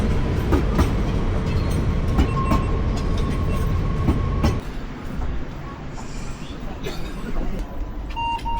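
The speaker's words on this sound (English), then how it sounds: "And our train will be coming." A train rolls into a station with loud rumbling and rattling wheels and a squeal, then the noise drops as it slows; a faint tone sounds near the end.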